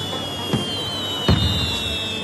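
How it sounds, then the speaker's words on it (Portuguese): Fireworks bursting over a port city during June festivities, two distant pops about three-quarters of a second apart over a steady background hum. "no céu pipocavam fogos de artifício"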